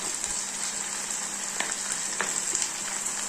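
Tomatoes sautéing in a pan for a Tamil drumstick sambar, a steady close sizzle with brief scraping stirs against the metal, no talking.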